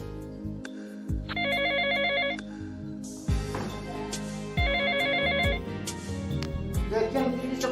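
A mobile phone rings and goes unanswered in a household, its bright electronic ringtone repeating in loud bursts over background music, with someone speaking briefly in between.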